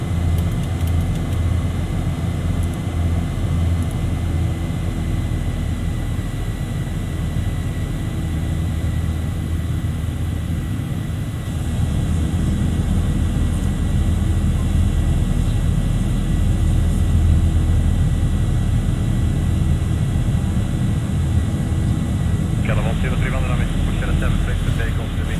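Boeing 737 jet engines in the X-Plane 11 flight simulator roar steadily through a takeoff at Gardermoen in gusty wind, a loud continuous rumble that swells slightly partway through, with radio chatter talking over it.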